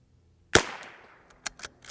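One sharp, loud crack from a rimfire rifle firing cheap CCI Standard Velocity .22 ammunition, with a short decaying tail, followed by a few quieter clicks and handling noises.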